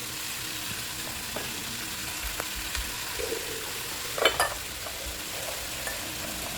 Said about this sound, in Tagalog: Igigisa na natin ang ating malagkit.